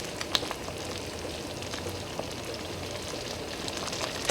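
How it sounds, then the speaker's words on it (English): Chocolate raspberry sauce at a hard rolling boil over high heat bubbles and sizzles steadily, a dense crackling texture with small pops, close and continuous without talk. "we're going to boil this hard for 1 minute"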